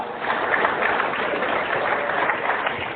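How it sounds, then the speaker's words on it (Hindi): Sustained applause from an audience at a business gathering, a dense, even wash of clapping that holds at a steady level with no voices over it. "जोरदार ताली होना चाहिए फ्रॉम ओडिशा।"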